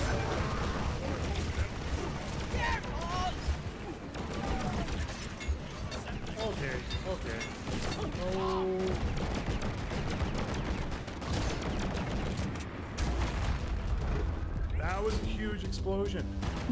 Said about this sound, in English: That was my grenades.